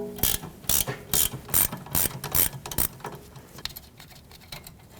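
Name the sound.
socket and ratchet loosening a brake hose bracket bolt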